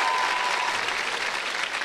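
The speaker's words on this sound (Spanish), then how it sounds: "un aplauso claro, para ellos" Studio audience at a television talk show applauds in a dense, steady wash of clapping for about two seconds, fairly faint and even throughout.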